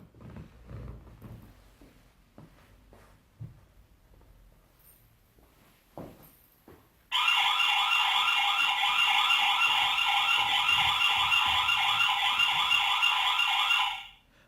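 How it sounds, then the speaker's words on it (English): After some quiet handling noises, a light bulb security camera's loud electronic alarm siren blares steadily for about seven seconds, then cuts off abruptly. "so that's the alarm system. It just basically goes off"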